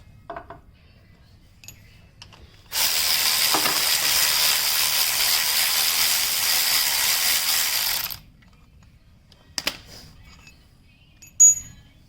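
A ratchet wrench clicks rapidly and steadily for about five seconds while removing an engine starter, close and loud, followed by a few sharp metallic clinks of tools.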